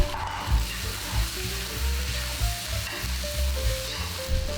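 Sauces sizzling over low-to-medium heat in a pan of noodles for mi goreng with shrimp. The hiss is steady and close, with soft stirring bumps and no voices.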